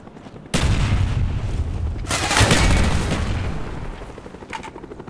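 Gunfire and heavy booms from an in-game battle in Call of Duty Black Ops, erupting suddenly in loud dense bursts with a second heavy surge partway through, then tapering off.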